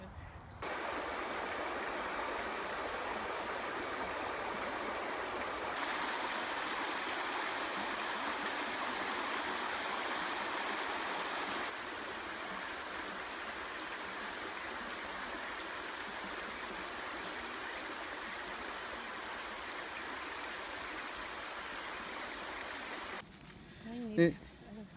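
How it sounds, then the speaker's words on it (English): A creek runs steadily beside a forest trail in a state park, a close, continuous broadband rush and gurgle of flowing water that barely changes over the stretch, with a brief knock near the end. "And here's a creek."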